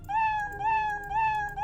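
A cartoon cat meow plays repeatedly from the Scratch coding program, with three clear, evenly spaced meows in a row, crisp and alone.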